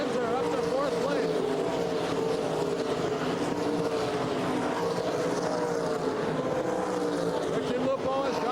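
World of Outlaws sprint race cars roar around a dirt oval at Oklahoma City in 1983, a dense continuous engine drone from several cars running close together, with an announcer talking over it.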